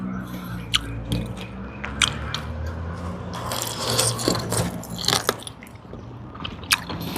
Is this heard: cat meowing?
no